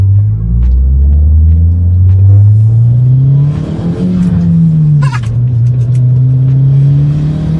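A big-turbo Audi TT drives with a loud, close engine rumble that rises as it accelerates, dips briefly, then climbs again with faint clicks and whooshes mixed in, with no talking.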